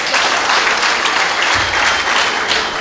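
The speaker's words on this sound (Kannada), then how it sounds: "ಅವರಿಗೆ ಇನ್ನೊಮ್ಮೆ ಚಪ್ಪಾಳೆ" Steady audience applause fills a Rotary Puttur City installation ceremony hall, a sustained, fairly loud wash of clapping with no voices over it.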